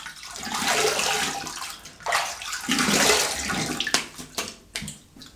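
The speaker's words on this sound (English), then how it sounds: "let me have a quick rinse" A razor rinsed under a running tap, steady splashing water for several seconds with brief breaks and a few clinks and drips as it stops, close and alone.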